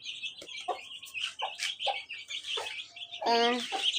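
Chickens cluck close by in short, uneven bursts, ending with a louder, drawn-out rooster call.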